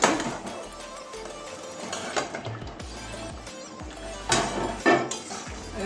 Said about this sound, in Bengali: এবারে আবারও ঢাকনা খুলে নিচ্ছি